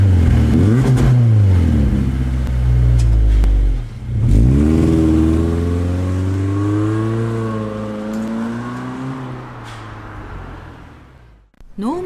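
A Subaru Impreza Sport fitted with a Ganador aftermarket muffler in the Gran Turismo racing game, its engine note rising and falling through repeated revs at medium speed, loud and steady with a brief dip midway and a cut at the end.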